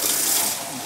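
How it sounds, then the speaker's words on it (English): Water splashing and swirling inside an emptied tinned-tomato can as it is rinsed out, a steady close rushing wash lasting under a second with no talk. "I'm just going to wash the can out with a little bit of water"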